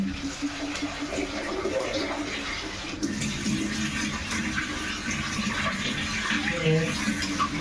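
Water runs steadily from a tap with a continuous rushing splash, a short break partway through and faint clattering in the background.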